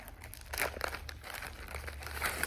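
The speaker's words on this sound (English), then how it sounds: "they cushion wrapped them so they wouldn't poke a hole in the bag" Plastic cushion wrapping crinkles and crackles up close in short, uneven bursts, as if being handled and squeezed.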